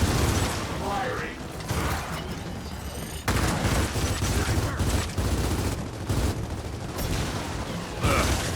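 Sustained gunfire in the Gears of War video game, dense rapid bursts and mechanical clatter running continuously with a sharp surge partway through, over layered game effects.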